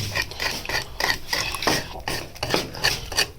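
Egg halwa mixture with sugar and whole bread slices being stirred and mashed in a pot, a steady run of scraping, squelching strokes close up, with no talk.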